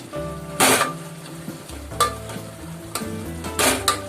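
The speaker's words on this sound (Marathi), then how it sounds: "मॅशरने सगळं मसाला जो आहे तो आपण असं मॅश करून घेऊया चांगला" Pav bhaji masala being mashed in a pan with a masher, giving steady sizzling and scraping with a few louder thuds and clatters of the masher against the metal, nearby and without any talk.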